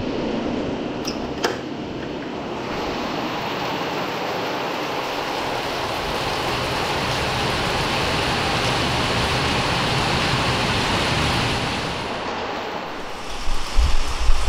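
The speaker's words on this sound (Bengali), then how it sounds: "বাইরে পড়ছে ঝুমঝুমিয়ে বৃষ্টি।" Heavy rain pours steadily outside during a monsoon stay in Purulia, a dense, continuous hiss with no talk, easing slightly near the end.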